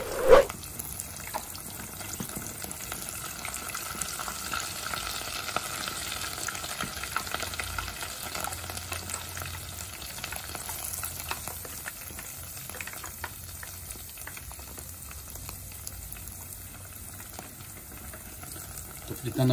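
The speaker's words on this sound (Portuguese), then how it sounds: "Fritando a primeira aqui, só de uma," Continuous crackling and sizzling of ham and cheese rolls frying in hot oil, steady and close, with no speech.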